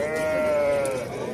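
Sheep at a livestock market in Kashkar village bleat loudly and close, a single sustained wavering bleat filling the whole moment, with busy market murmur underneath.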